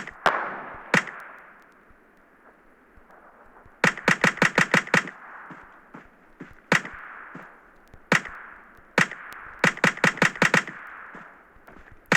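Shooter video game gunfire rings out in loud rapid bursts of five or six shots, with scattered single shots between them, each followed by a ringing echo that fades into a quiet hum.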